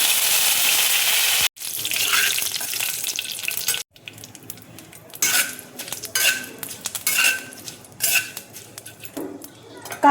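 Mustard seeds and curry leaves hit hot oil with loud sizzling at first, then a quieter crackle broken by utensil clinks and pan knocks. Brief sounds suggest a voice may be present.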